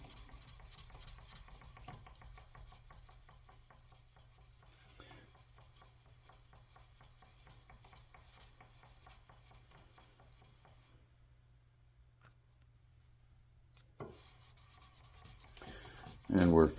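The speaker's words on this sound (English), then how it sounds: "And sand away." Fine-grit sandpaper is worked by hand across a finish, a soft rhythmic rubbing rasp in quick repeated strokes, close and faint, pausing briefly near the end before a louder burst of handling noise.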